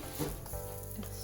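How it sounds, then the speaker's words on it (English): Pancakes sizzle on a hot pan, with a faint, steady frying hiss and a few soft crackles over a short stretch. "Once you see the bubbles rise, go ahead and flip the pancakes"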